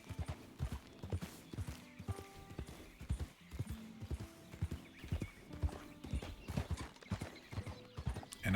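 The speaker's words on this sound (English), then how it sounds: "save some horse stamina, ride a little slower through here" Horse hooves clip-clop at a steady riding pace along a snowy mountain trail in Red Dead Redemption 2, the rhythmic thuds fairly close and continuous, with faint gear jingling and no talk.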